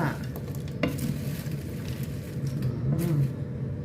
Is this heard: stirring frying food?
yes